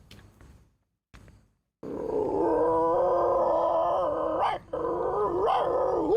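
A performer at a school arts festival mimicry act imitates two different dog breeds fighting. After a few short sounds, a loud, sustained voiced stretch of snarling, growling and howling follows, with one brief break.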